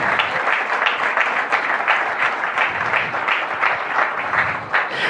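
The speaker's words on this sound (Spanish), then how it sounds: "Dale un fuerte aplauso a nuestro Dios." A church congregation applauds for the full length, a loud, steady wash of many hands clapping with faint voices mixed in.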